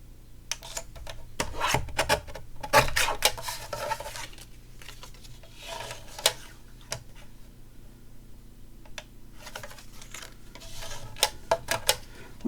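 Scissors cutting paper for a handmade butterfly-themed mini album, a run of short crisp snips and rasping rubs in uneven bursts, close and fairly quiet, with no talking.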